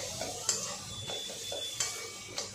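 Cooked masala paste sizzles in oil in a pan for a pomfret fish curry, a steady close fry hiss punctuated by a few sharp clinks and scrapes of a stirring spoon against the metal.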